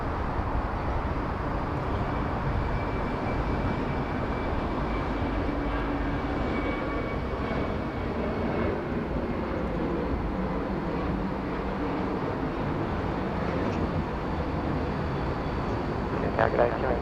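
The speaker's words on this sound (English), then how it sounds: "We've got Velocity just on the takeoff roll now." A Velocity airliner on its takeoff roll at Sydney Airport makes a steady, broad engine roar that holds at an even level for the whole stretch, heard from a distance with faint voices mixed in.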